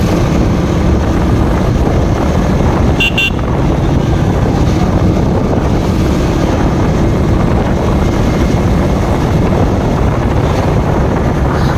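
KTM Duke 200 BS6 motorcycle being ridden, engine drone almost buried under loud, constant wind rush over the microphone throughout.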